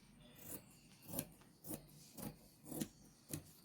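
Scissors snip steadily through fabric along a drawn churidar neck outline, about six rhythmic close cuts with faint rustling between them and no talk.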